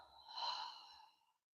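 A slow, soft exhaled breath during a guided breathing exercise, swelling then fading out over about a second and a half, close and alone, with no talking.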